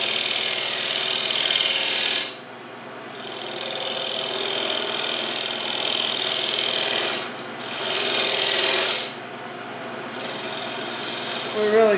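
Skew chisel on a wood lathe shaving waste plywood off a segmented maple bowl, a loud continuous scraping rasp broken by three brief pauses where the tool lifts away.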